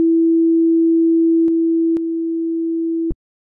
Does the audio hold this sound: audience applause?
no